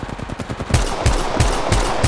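Rapid automatic gunfire from the mobile shooter Apex Legends Mobile, a quick burst of close shots followed by a slower series of heavier, evenly spaced booming reports.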